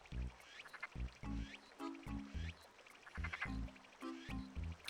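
A frog in Animal Crossing: City Folk croaking in a repeated, rhythmic series of short, nasal, quack-like calls, close and clear.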